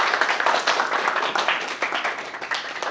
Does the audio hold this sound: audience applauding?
yes